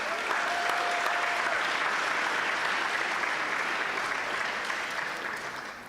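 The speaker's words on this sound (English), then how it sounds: "you should give yourselves a round of applause" An audience at a Tanakh quiz competition claps loudly and continuously, a thick even roar of applause that fades slightly over the last second, while a brief tonal whistle sounds early on.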